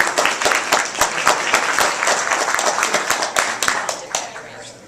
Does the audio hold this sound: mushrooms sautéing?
no